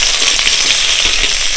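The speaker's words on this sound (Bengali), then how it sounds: "কেটে রাখা আম দিয়ে দেবো।" Cut mango frying in a mustard oil tempering with mustard seeds and green chillies, a loud, dense, unbroken sizzle heard close up.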